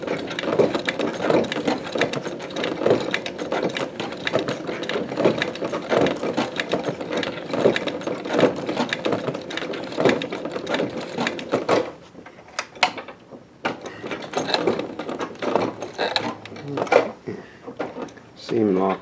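A Techsew 611 walking foot sewing machine with a Consew servo motor stitches a cuff in fast rhythmic bursts of mechanical clatter, pausing briefly before resuming, with a voice talking over it.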